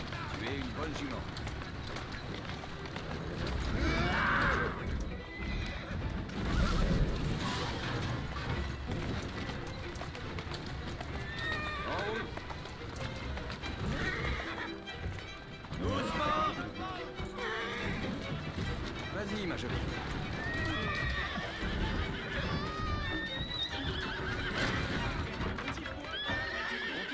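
A mare in the game Assassin's Creed Syndicate whinnies and gallops with steady clip-clopping hooves throughout, while a French-speaking player talks over the game sound.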